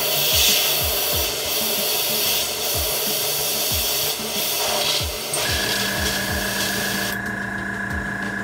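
An airbrush spraying in short repeated bursts, with a steady hiss broken by brief pauses and trigger clicks, close up, with no talking.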